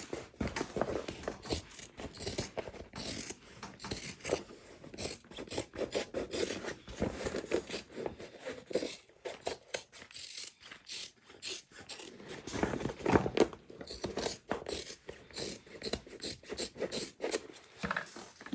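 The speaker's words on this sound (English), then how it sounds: "I am going to trim down the excess." Excess material is trimmed from the bottom panel of a handmade convertible backpack, with close, steady rasping and rubbing strokes in quick irregular bursts and brief pauses, and no talking.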